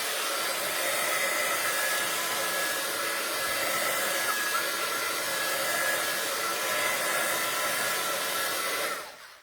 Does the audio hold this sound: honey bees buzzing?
no